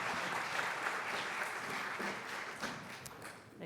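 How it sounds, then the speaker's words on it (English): A symposium audience at UC San Diego applauds in a steady, moderately faint round of clapping that carries on without pause before tapering off at the end. "Please give a round of applause."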